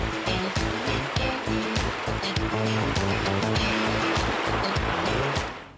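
A Volkswagen Amarok pickup plows through a vast mud puddle: a loud, continuous wash of splashing water and churning mud with rhythmic surges, fading out at the end.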